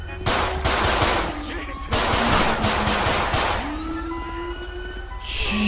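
Rapid machine-gun fire crackles in a Grand Theft Auto V police-mod shootout, loud bursts over several seconds with a siren-like wail rising underneath.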